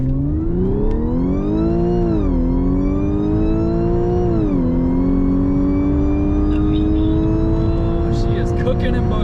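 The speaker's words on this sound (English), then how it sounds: "now it's time to do a launch. So let's see what this thing's got." An Audi B8 with a DSG gearbox does a launch. The engine revs hard and climbs through rising pitch sweeps with quick dips at the gear changes, loud and close throughout the run.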